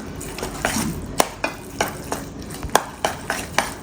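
Rusk batter made with sunflower oil being slowly mixed in a bowl, a rhythmic series of close scraping and tapping strokes at a steady pace with no talking.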